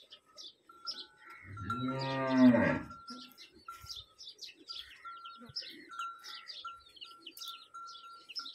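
A Cholistani Friesian cross cow gives one long, loud, close moo that rises and falls over about a second and a half, with birds chirping and calling throughout in the background.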